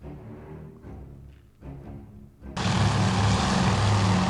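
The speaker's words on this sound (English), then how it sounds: "It is a Japanese scout plane." Near the end a Japanese scout plane's propeller engine in Task Force Admiral swells into a loud, steady drone, after a quieter stretch of rumbling game ambience.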